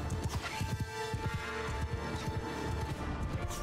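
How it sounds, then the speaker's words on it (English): Over a hundred cavalry horses charge across a Mount & Blade II: Bannerlord battlefield, a dense, loud rush of overlapping hoofbeats with scattered crashes of impact and no voices. "Cavalry charge. Oh, over a hundred horses."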